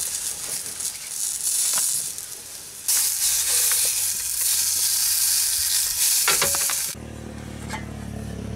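Mud crab frying in olive oil with salt and pepper, a close, loud sizzle that surges and drops in stages, with occasional clatters of stirring.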